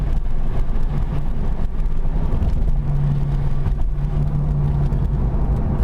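A rear-wheel-drive manual car's engine drones steadily with a low, rumbling hum and a faint tonal whine, heard from inside the cabin with no voices.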